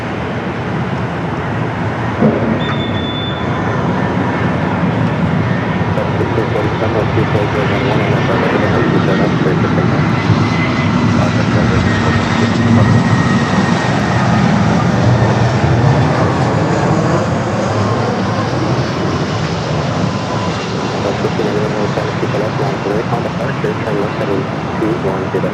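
An airliner departs from runway 24 left at Los Angeles International Airport, its jet engine roar building and holding loud for a long stretch, with radio-style talk heard under it.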